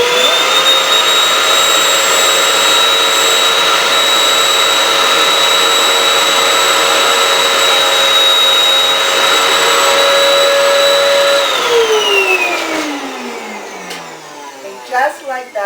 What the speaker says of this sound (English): I have a floor vacuum, but you can use your regular vacuum cleaner as well.